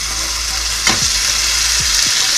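Lightlife meatless veggie meatballs fry in a pan with a steady loud sizzle, and a few soft scraping strokes come through as they are pushed back and forth.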